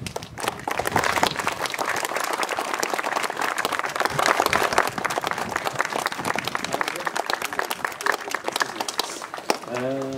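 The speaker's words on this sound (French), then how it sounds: "Et si vous adressez des applaudissements," Sustained audience applause at an outdoor inauguration of a promenade, dense crowd clapping throughout that swells in the middle, with scattered voices mixed in and a person beginning to speak just as it ends.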